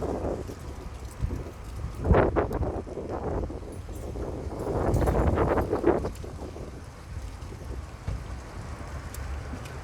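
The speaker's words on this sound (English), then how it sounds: "So windy." Gusty outdoor wind buffets the microphone in uneven low rushes, swelling in stronger blasts around the middle, while faint rustles and small handling knocks sit beneath.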